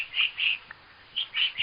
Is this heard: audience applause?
no